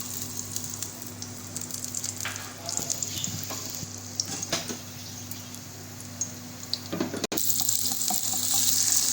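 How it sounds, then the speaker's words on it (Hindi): Onions fry in hot oil in a pan, giving a steady close sizzle with small crackles and a faint clatter near the end; a low steady hum runs underneath. "अब ये गरम है तो इसमें मैं ये प्याज डाल दूँगी।"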